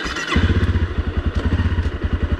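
A Honda CRF250L dual-sport motorcycle engine thrums along in a fast, pulsing rhythm, close and steady, with no voices over it.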